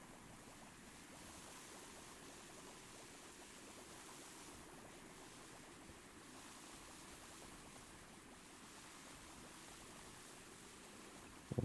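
A power washer sprays water in Power Wash Simulator, a continuous quiet hiss that stays even and unbroken throughout.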